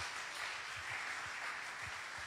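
A church congregation applauding during a celebration service, a dense, even wash of clapping from many hands that holds steady throughout, with faint low thumps underneath.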